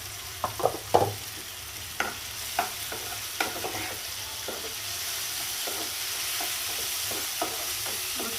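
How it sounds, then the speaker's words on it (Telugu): Quiet sizzling of tomatoes softening in a pan under a series of sharp clinks and scrapes from stirring, busier at first, then settling into a soft steady simmer. "ఇప్పుడు ఒక నిమిషం టమాటాలను మగ్గనిద్దాం"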